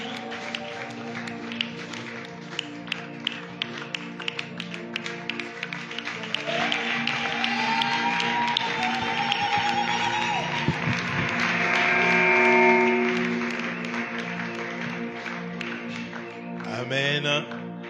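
A church congregation at a Sunday service breaks into clapping that swells into sustained applause and cheering for an arriving preacher, with music tones and voices mixed in, building loudly then tapering off.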